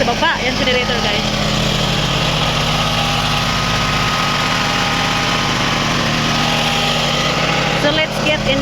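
A generator running at a swimming resort, a loud, steady low-pitched drone with a constant vibrating hum throughout, with people talking faintly over it.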